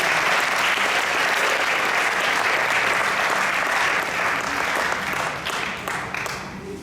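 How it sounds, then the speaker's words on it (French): Steady, dense applause from a church congregation at an ordination, loud and continuous, thinning slightly toward the end. "Est-ce qu'on peut acclamer le Seigneur?"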